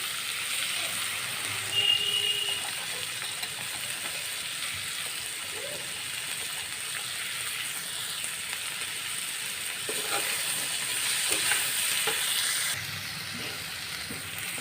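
Ivy gourd and chopped onion fry in a pan, giving a soft, steady sizzle like light rain that lasts throughout. There are occasional faint scrapes and light knocks, all fairly quiet.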